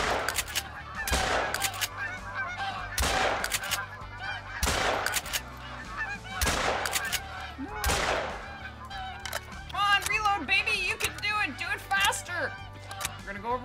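Geese in the hunting video game Call of the Wild honk in loud clustered calls, and several sharp rifle shots from a .22 AR ring out among them. Later the honking turns more scattered and overlapping.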